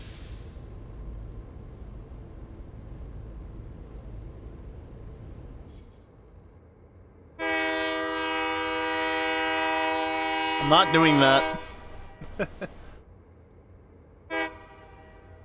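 A train horn in the video game Satisfactory blares in one long sustained honk, then a shorter second blast follows after a brief gap. Someone talks over part of it.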